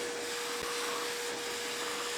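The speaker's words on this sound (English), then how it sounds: "I'm gonna vacuum this crack so I could nicely clean it up from any kind of loose concrete or debris." A vacuum cleaner sucks loose concrete and debris out of a crack, giving a steady, loud, close whooshing roar with a constant whine, uninterrupted for the whole stretch and with no voices.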